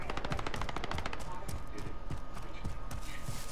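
Rapid automatic gunfire in Call of Duty: Modern Warfare, dense bursts of game shots close and loud, running continuously with a brief lull midway and a player's voice over it.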